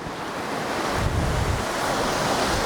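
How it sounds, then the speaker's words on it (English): Big ocean waves crashing on shore, a loud, continuous roar of surf with heavy wind buffeting the microphone, building slightly toward the end. "Some big waves coming in now."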